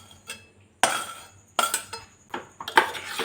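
Metal utensil clinks and scrapes against a pan as fried soybeans are mixed into spice paste, in several distinct close strokes with quiet gaps between them.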